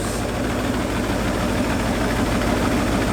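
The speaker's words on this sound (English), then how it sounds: "I just hit the key, it lit right off, and it is idling on its own" A De Tomaso Pantera's loud engine idles steadily up close after a carburetor rebuild, a constant low rumble and drone with no change in pace and no talking.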